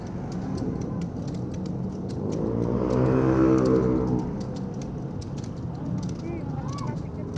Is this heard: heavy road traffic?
yes